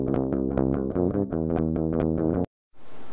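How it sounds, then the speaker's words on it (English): Raw electric guitar with no effect applied plays a run of clean plucked notes and chords, bright and close, for about two and a half seconds before cutting off into a short silence and a hiss of noise. "so now you are going to hear the raw guitar"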